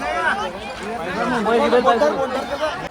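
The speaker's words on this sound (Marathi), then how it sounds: "गर्दी तर काही खतरनाक आहे." Packed festival crowd at the Muktabai fair in Muktainagar: overlapping voices chattering nearby, a lively babble of several people talking at once without pause.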